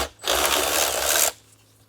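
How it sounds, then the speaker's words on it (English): Removal of a holding screw from the fuel rail on an Audi A4 2.0 TFSI, probably with a power driver. A single close burst of whirring runs about a second and stops abruptly, with no talking. "we're gonna go ahead and pull these two holding screws out"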